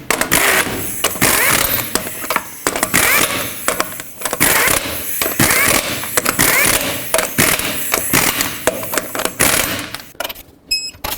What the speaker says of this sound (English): Start on all of your lug nuts, bottom them out, and then torque them to 140 foot-pounds.